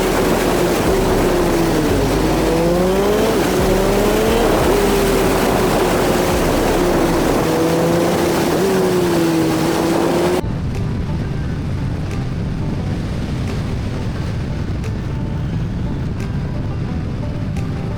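BMW motorcycle engine ridden on a mountain road, a loud steady drone with a wavering pitch that rises and falls as it revs, buried in heavy wind rush, then a dull continuous rumble under wind noise.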